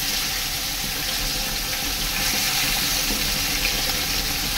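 Tilapia fish heads fry in hot oil in a wok, a loud, continuous close-up sizzling hiss with a fine crackle that holds steady throughout.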